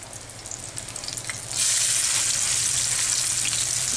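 Peshawari mutton chapli kebab frying uncovered in oil, a close, loud sizzle that swells sharply partway through and then holds steady, with no voices.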